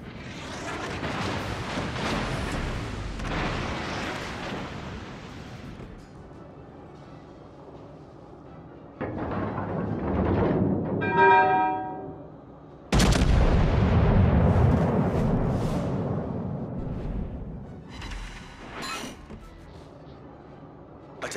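Heavy warship guns booming in World of Warships Legends, a couple of deep, loud salvos with rumbling tails separated by quieter stretches of engine and sea ambience, and a brief tonal alert sounding between blasts.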